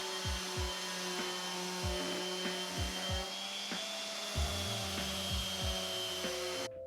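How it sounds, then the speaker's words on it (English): Orbital sander working down small wooden tabs on a handmade sjoelbak game board, a steady close whirring drone with a recurring rhythmic thump, running alone until it cuts off at the end. "I used my Orbital sander to sand down the tabs"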